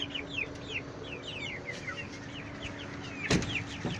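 Brahma and Sussex chickens cluck and chirp in a steady chorus in a coop over a low background hum, with a brief clatter near the end.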